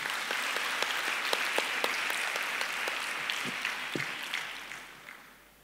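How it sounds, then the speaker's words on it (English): Applause from the audience at a Nigerian women's business association annual conference, a steady crowd of clapping hands with a few sharp individual claps standing out, gradually fading away toward the end. "Please clap for yourself."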